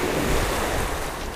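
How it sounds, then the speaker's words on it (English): Rough sea waves surge and churn in a steady, loud wash of surf with wind noise buffeting the microphone, no voices over it. "So the sea's rough, as you can see."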